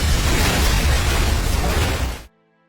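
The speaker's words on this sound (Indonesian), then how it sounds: "Ayeon meledakkan tabung-tabung di ruangan tersebut, memicu ledakan besar yang membakar sebagian area itu" Gas cylinders blowing up in a room in a film scene make a big, dense roaring blast that rolls on for about two seconds, then cuts off sharply into near silence.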